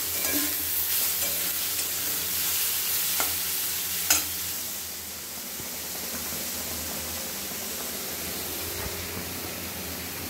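Ground paste of onion, garlic, ginger, cumin and green chilli frying in a pan, a steady close sizzle with occasional stirring scrapes and no talk.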